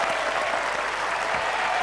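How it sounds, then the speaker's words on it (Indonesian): A studio audience at a TV game show breaks into loud, dense applause, a steady wash of many hands clapping with a hint of crowd murmur, lasting a couple of seconds without a break. "Tepuk tangan untuk Mas Dian."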